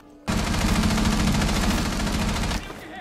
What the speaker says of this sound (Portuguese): Ô Yag, dá um tiro aí pra ele rushar